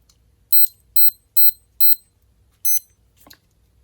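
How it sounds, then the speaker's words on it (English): A counterfeit Casio G-Shock GMW-B5000 metal watch sounds a series of five short, high-pitched electronic beeps in a steady rhythm, followed by a faint click, close and alone in a quiet room. "one thing they also didn't get right is the sound itself the watch makes"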